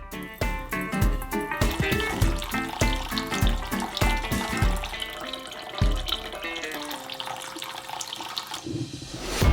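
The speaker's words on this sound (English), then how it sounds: "Pour the already obtained tincture into a saucepan." Liquid, a strawberry and alcohol tincture, pours into a saucepan with a steady splashing trickle, close up, ending in a short sloshing burst.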